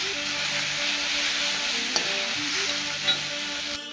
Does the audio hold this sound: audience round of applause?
no